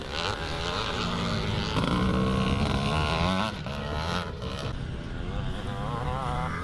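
Vintage Montesa motocross bikes race at a classic Scottish meet, a dense, loud engine drone with rising and falling revs as machines pass, a voice talking over the din throughout.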